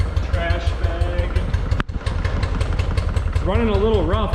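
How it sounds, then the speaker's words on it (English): Old engine idling roughly and barely holding on its own at its first start in 25 years, after sitting since 1996; a steady uneven low rumble runs throughout, with talk and some whistling over it. "It's running a little rough, but for the first time in 25 years, I wouldn't say it's running that bad. It's idling on its own, just barely."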